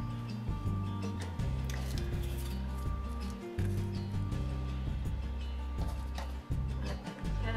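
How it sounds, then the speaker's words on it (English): Scissors trimming material for a picture craft, a series of crisp snips and clinks at a steady rhythm, close and alone. "I'm just gonna trim this down just a little bit"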